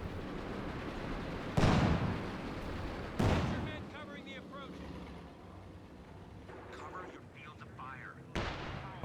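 An M8 Scott self-propelled gun fires in the Company of Heroes 2 video game, three loud sharp booming blasts spaced a few seconds apart, with gunfire crackle and battle noise between them.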